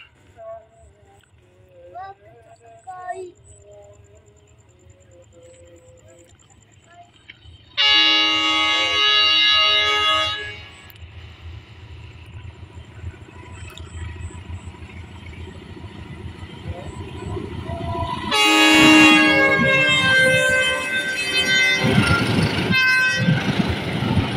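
An Indonesian container freight train hauled by two BB302 locomotives in double traction passes by, loud horn blasts at the start and again near the end over a rising rumble and rhythmic clatter of wagons rolling close past.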